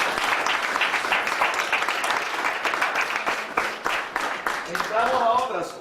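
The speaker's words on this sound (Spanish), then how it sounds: "Un aplauso al Señor. Bien fuerte." A church congregation applauds loudly and continuously, a dense close crowd of clapping, while a speaking voice rises over the applause near the end.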